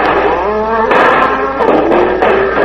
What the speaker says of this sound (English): putting the cattle into a wild, plunging stampede